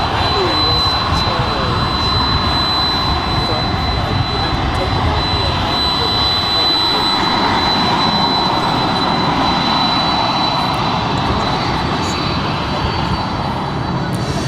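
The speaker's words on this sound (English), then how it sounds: "the families out here with their kids watching these airplanes go" At Dallas DFW airport, jet airplanes roar loudly in a continuous wash of engine noise with a steady high whine running through it, and a voice talks over it.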